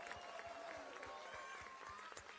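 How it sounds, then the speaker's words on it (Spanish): Audience applause for a senator at a political speech in Temuco, in Chile's Araucanía region: steady, dense clapping from a crowd, with faint voices mixed in throughout. "Así que un gran aplauso para la senadora Aravena."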